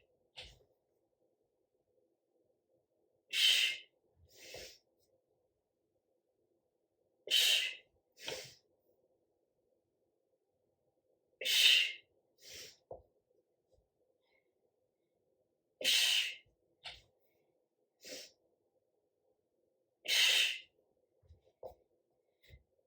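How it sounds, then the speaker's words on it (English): Forceful exhales during prone pull-up exercise, five sharp breathy bursts spaced a few seconds apart, each followed by a softer breath, close and fairly quiet against silence. "Exhale as you pull up."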